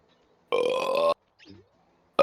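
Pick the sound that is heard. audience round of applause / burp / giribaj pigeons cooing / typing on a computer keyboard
burp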